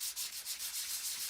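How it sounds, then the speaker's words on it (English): Cardstock being sanded with a nail buffer or light sanding block, a steady close-up scratchy rubbing in quick repeated back-and-forth strokes, heard alone. "if you take a little nail buffer or a very light sanding block or whatever, you can take and emphasize parts that are sticking out"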